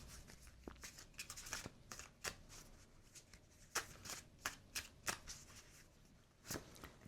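A deck of tarot cards being shuffled by hand, with soft riffles and sharp flicks of cards at an uneven pace, close up against a quiet room.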